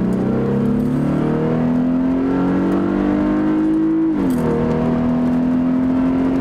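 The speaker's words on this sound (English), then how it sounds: "Okay, I just put it in sport mode." Engine of a 2014 Lexus IS 250 pulls hard in sport mode, a loud steady drone rising in pitch, dropping briefly at an upshift, then climbing again, heard from inside the car.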